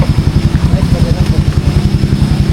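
A motorcycle engine, someone's bike, chugs in a steady rapid pulse close by, with a voice talking over it.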